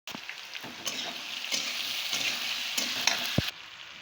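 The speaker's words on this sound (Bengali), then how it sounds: "এটা আলুটা ভেজে নেবো।" Potatoes frying in a pan with a steady, dense sizzle, close and fairly loud, with a few scraping stirs and clinks over it, ending abruptly.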